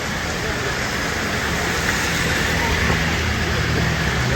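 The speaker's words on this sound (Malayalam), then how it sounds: "അത്രയ്ക്ക് ശക്തമായ മഴ." Heavy rain pours steadily along a roadside in Malappuram, a dense unbroken hiss that stays loud throughout with faint passing traffic beneath.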